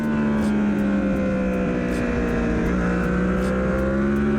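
A motorbike revving and accelerating on a race track, with a steady, loud engine drone that rises slightly in pitch and holds constant throughout, no voices.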